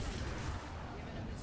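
Gunfire in the video game Apex Legends, a dense, rumbling burst of shots and booming impacts up close, loud and continuous, with a player talking over it.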